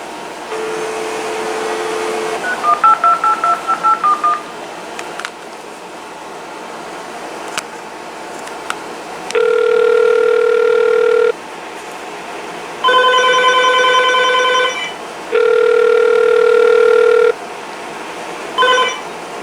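A Uniden EXA915 speakerphone sounds a short run of dialing beeps, followed by several steady, loud electronic tones in bursts of about two seconds, clear and close with no talking.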